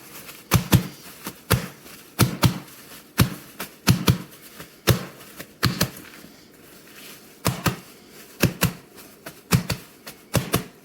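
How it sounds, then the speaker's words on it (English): Sharp, rhythmic slapping of soft Guyanese paratha roti dough clapped between palms, often in quick pairs, repeating steadily at close range with brief pauses between. "Ready to clap again"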